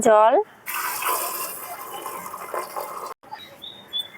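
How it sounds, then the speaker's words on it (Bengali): Water pouring into a pressure cooker over kidney beans, a steady close splashing fill after a brief opening tone, briefly cut off once and then resuming more quietly. "জলটা রাজমাটা ডোবা অবধি জলটা দিতে হবে।"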